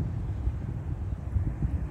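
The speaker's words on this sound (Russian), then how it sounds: "Это ветер так сосну мотыляет." Steady low rumbling wind gusting against the microphone and shaking a pine tree in Givat HaMoreh, Israel, a continuous blustery roar with slight surges, close and moderately loud, no voices.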